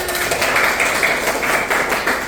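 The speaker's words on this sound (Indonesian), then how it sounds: "tepuk tangan untuk Atma" Students in a classroom clap for a classmate: a dense, steady patter of many hands that holds at an even level for a couple of seconds, with no voices over it.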